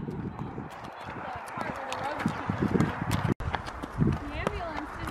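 Horse hooves clip-clop in a steady walking rhythm on a hard road surface, with people talking over them.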